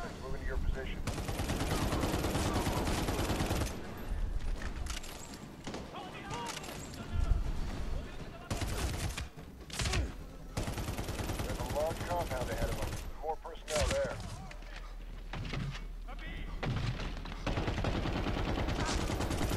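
Rifle gunfire from a 40-round magazine in the Medal of Honor: Warfighter video game, loud sustained automatic bursts with short gaps, dense and close, filling most of the stretch.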